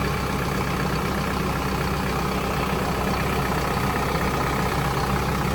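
A Hino 195 truck engine idles after a DPF replacement, a steady continuous rumble with broad noise, close and unchanging throughout.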